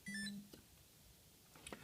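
A Garmin Forerunner 955 running watch gives a short, clear electronic beep as its countdown timer starts, followed by quiet room tone and a faint click near the end.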